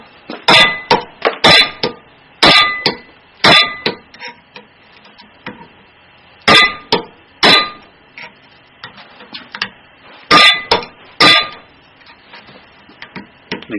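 A metal punch hammered against a BMW F650GS wheel bearing to drive it out: sharp metallic clanks in quick bursts of two to four blows, separated by pauses, close and loud with no talk.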